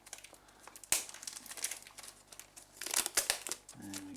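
Plastic wrapping is crinkled and torn off brand-new Video 8 camcorder tapes, with close, irregular rustling and a few sharp tearing bursts, no voice.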